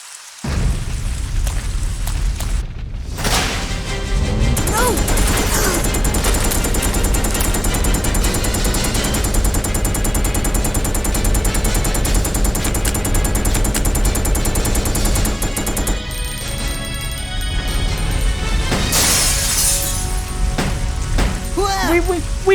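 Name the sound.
gunfire in video game Resident Evil Code: Veronica X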